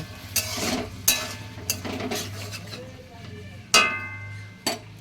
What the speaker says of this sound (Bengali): মটরশুঁটিটা আমি ঢেলে দিলাম এইবার ভালো করে নেড়ে চেড়ে নেব